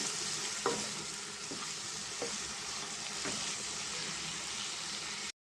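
Chili powder and coriander powder frying in oil for an egg and tomato curry make a dense, even sizzle with a few light stirring taps. The sound stops abruptly at the end.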